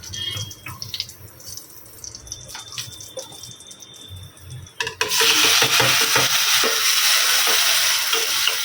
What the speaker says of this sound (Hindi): घी भी गर्म हो चुका है, देसी घी डाला है मैंने, और थोड़ा सा डालूँगी जीरा